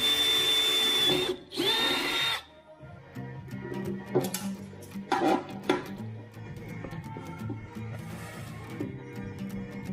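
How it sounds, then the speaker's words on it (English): A power drill with a sharp bit whines steadily into tight steel on a pub runner vehicle, stopping briefly and restarting, followed by clanking metal and scattered rattles of tools nearby. "Sharpest drill bit."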